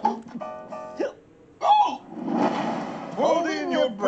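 A person hiccups a few times in short, sharp bursts, mixed in with nearby voices talking and exclaiming.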